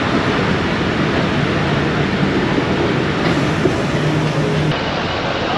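A Karachi Circular Railway local train pulls away from Drigh Colony junction station, its steady, dense rumble and rolling wheel noise filling the air without pause, with no one speaking nearby.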